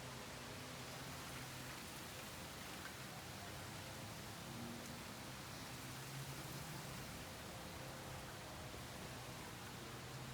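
Rain pours in an afternoon thunderstorm, producing a continuous, uniform wash of hiss that holds at a constant low level from start to finish, without speech or clear thunder.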